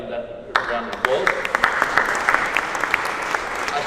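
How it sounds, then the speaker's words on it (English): A round of applause breaks out and continues steadily, many hands clapping in a room at an Italian Republic Day celebration, with individual claps standing out near the front. "I think that is a round of applause."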